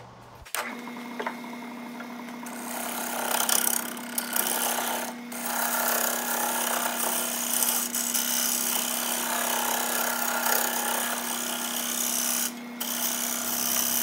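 A wood lathe spins a reclaimed pine platter bowl, starting up with a steady hum while the cutting tool scrapes and rasps continuously against the wood, loud and close with brief changes in pressure.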